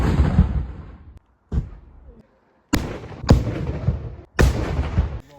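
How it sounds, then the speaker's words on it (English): Explosive charges detonate during military demolitions training: several sharp, heavy blasts go off one after another at a distance, each with a long rumbling decay, separated by brief quiet gaps. "Today we're going to do demolitions"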